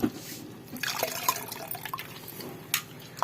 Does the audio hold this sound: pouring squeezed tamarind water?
yes